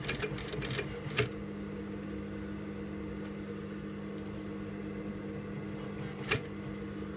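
A sewing machine stitches a leather bag repair at a 3.5 stitch length, a steady continuous hum with a few louder clicks near the start and one later, close up with no voices.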